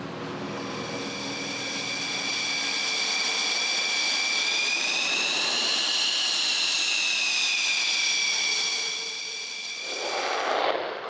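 Engine of a Rafale fighter jet, a loud sustained whine with rising and falling pitch, steady and fairly near, swelling in the middle before easing off, with no talk.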